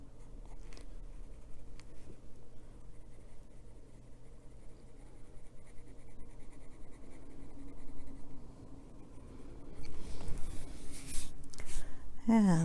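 Soft, continuous scratching of a colored pencil on paper as fine vein lines are drawn, close and faint, with a louder burst of strokes near the end.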